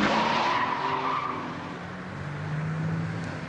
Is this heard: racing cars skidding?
yes